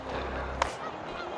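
A single goose honks once, short and fairly distant, during an early season goose hunt in an Ohio field, over low outdoor background noise with no talk.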